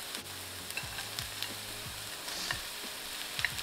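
Salted cooked rice frying in a pan for egg fried rice, a steady close sizzle with scattered scrapes and stirring taps throughout.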